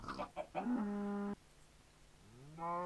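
Cows moo in the block-building video game Minecraft, a pair of drawn-out tonal lowing calls separated by a pause, heard clearly and alone with no talk over them.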